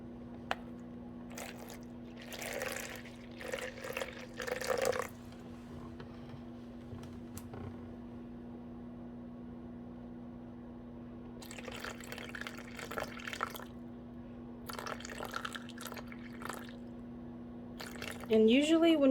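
Distilled water pours and splashes into a container in a few bursts while measuring for a body cream, separated by quiet stretches, over a steady low electrical hum.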